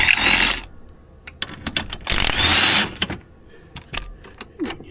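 Seat bolts being backed out inside a 2025 Honda Ridgeline cab, heard as bursts of ratcheting and mechanical whirring, two long runs broken by short clicks and taps, close and fairly loud with no talk.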